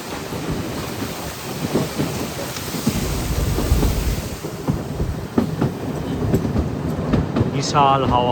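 Continuous rumble and clatter of a narrow-gauge toy train on the Kalka to Shimla line, with wind noise and a faint voice partway through.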